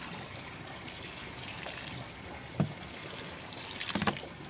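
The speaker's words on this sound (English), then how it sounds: "I water it first." Water poured over a homemade organic compost heap gives a steady, soft splashing hiss throughout, with a couple of brief louder splashes near the middle and end.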